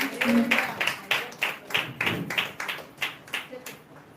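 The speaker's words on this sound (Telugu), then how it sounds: "ప్రతి ఒక్కరు చప్పట్లు కొడదామా బిగ్గరగా" A women's church gathering claps loudly together in a steady, evenly spaced rhythm of about ten strong beats.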